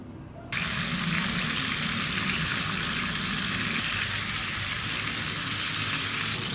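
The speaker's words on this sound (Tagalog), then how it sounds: "So ngayon magpiprito na tayo." Loud, steady sizzling and crackling fills the clip after a brief quieter start as pork browns hot in a pan.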